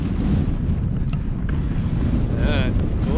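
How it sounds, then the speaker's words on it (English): Cold, strong wind on the summit of Mt Rhondda, above a ski descent, a constant heavy roar buffeting the microphone with no breaks, a faint whistling tone rising briefly near the end. "it's cold and windy up here, so not too pleasant."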